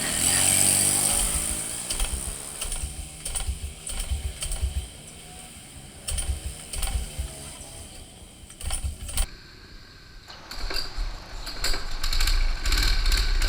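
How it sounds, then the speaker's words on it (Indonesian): A small go-kart engine at a karting track sputters and catches, then runs with a loud, rough, steady buzz close by, broken by a brief dip before picking up again. "Dan akhirnya go-kartnya nyala juga."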